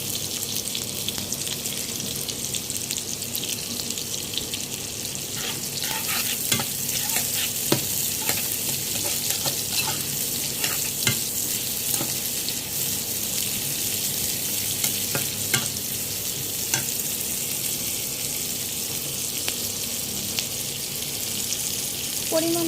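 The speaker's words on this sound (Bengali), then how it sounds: "এখন আমি একটু নাড়তে থাকবো এবং একটু লালচে ভাব হওয়া পর্যন্ত অপেক্ষা করব।" Bitter gourd and prawns sizzle steadily in a pan while being stirred, a continuous bright frying hiss broken by frequent scraping clicks of the spoon, close and moderately loud with no talking.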